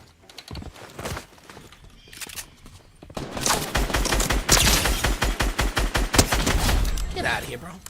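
Rapid gunfire from an enemy in a video game, starting with scattered shots and then breaking into a loud, sustained stream of cracking rounds, with a player talking in the first seconds.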